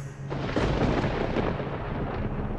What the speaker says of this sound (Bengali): হঠাৎ কোথাও কর্কশ শব্দে একটা বাজ পড়ার শব্দ শোনা যায়